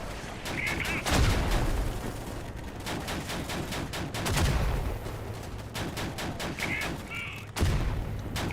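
Booming artillery and gunfire in the World War II shooter Easy Red 2, set in France 1940, come as repeated sharp blasts and bursts with heavy low thuds, some near and loud.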